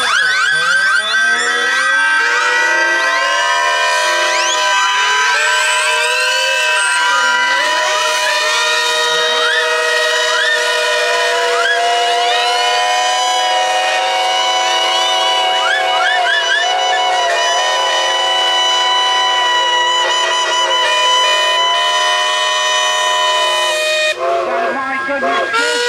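Many steam engine whistles blow together at an outdoor steam and heavy horse show, a loud sustained chorus of overlapping tones with some pitches sliding and wavering. It holds for about twenty-four seconds before cutting off abruptly.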